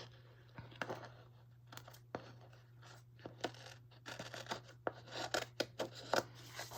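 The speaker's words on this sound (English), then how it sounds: "I just cut my page all up" Close scissors snip through leftover planner sticker sheets, with repeated crisp cuts speeding into quick bursts near the end over a faint steady hum, and no talking.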